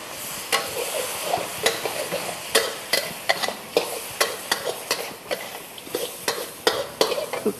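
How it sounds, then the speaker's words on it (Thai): A spatula scrapes and stirs rhythmically in a sizzling pan as pad thai with crispy wontons is tossed with sauce, the steady frying hiss under regular, close clatters. "แล้วก็นำน้ำซอสที่เราทำเสร็จเรียบร้อยแล้วนะครับ ราดลงไปในเกี๊ยวกรอบผัดไทย"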